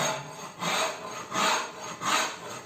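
A hand rasp scrapes across a wooden Telecaster electric guitar body in four slow, even strokes, each a coarse rasping sweep separated by short pauses, close and clear.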